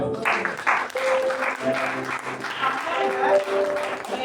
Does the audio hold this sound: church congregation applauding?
yes